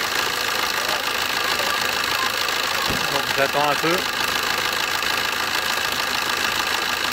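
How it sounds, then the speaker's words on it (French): The diesel engine of a 2009 Opel Agila DTI idles steadily while warming up, a constant close rumble that continues as someone speaks briefly. "En train de faire chauffer le moteur."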